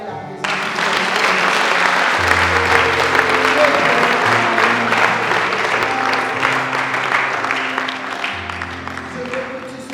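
A church congregation applauds and acclaims God in a sustained, loud wave of clapping and cheering voices that fills the room for nearly ten seconds.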